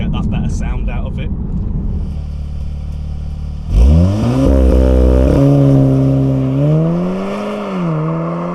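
A VW Golf R MK7 does a launch, its engine note rising sharply into a loud, strained acceleration pull with climbing, shifting harmonics after a quieter idle and rumble.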